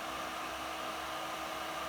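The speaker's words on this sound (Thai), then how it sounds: "เสียงพัดลมก็จะดังหน่อยนะครับ" A car subwoofer amplifier's switching power supply runs with its cooling fan on, giving a steady faint whirring hiss with no other sounds.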